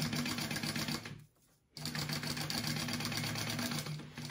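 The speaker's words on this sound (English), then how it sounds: "So go ahead, place that on and stitch the bottom" A sewing machine stitches the bottom of a fabric ladies' wallet, a steady close mechanical whir that stops briefly and then resumes.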